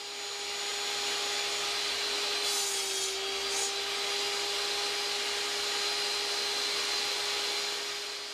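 Wooden clamp components being cut in a workshop, heard as a steady, continuous machine drone with a constant whine and a faint rasping edge, with no talking.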